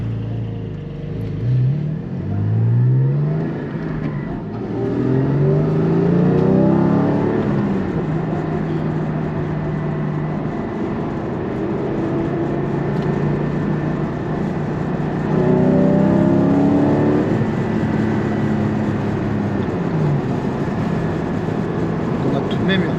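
The 4.0 engine of a Porsche 718 GT4 Clubsport revs in a few rising and falling blips heard from nearby, with someone talking over much of it.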